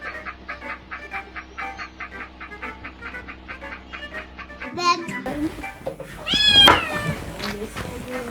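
A house cat meows loudly and insistently in a home after a stretch of repeating tonal sounds, its cries mixing with a voice and other talk.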